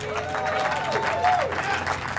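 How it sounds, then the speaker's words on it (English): An outdoor crowd applauds at a Hollywood Walk of Fame ceremony honouring Luther Vandross, a continuous wash of clapping and cheering with a faint voice or tone rising briefly in the middle. "That deserves more applause than that."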